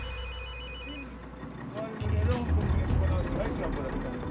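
Cell phone ringtone chiming on a boat in a remote fishing spot while hunting tarpon, a repeating electronic tone in the first second, followed by engine rumble and water noise with people talking.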